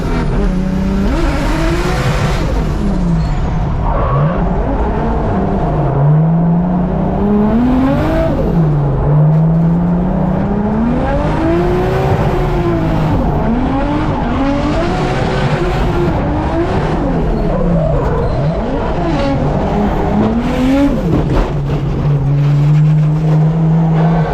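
A Nissan Skyline drifting at full throttle, its engine revving and wailing through rising and falling pitch sweeps with tire squeal, loud and continuous throughout; the impact into a wall is not clearly distinguishable.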